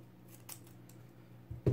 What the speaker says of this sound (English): So I'm gonna cut this now